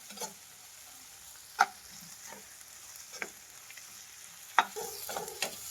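Vegetables for Maggi masala noodles stirred and frying in a pan, a soft steady sizzle broken by a few sharp scrapes and clicks of the spoon against the pan.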